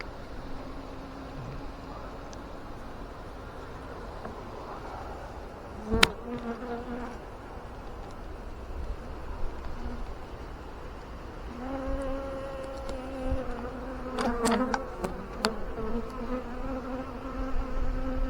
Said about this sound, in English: only 5 frames of bees down in the bottom box